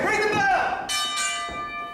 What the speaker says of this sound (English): As the bell rings and away we go.